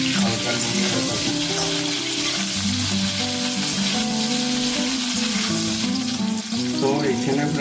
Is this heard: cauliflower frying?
yes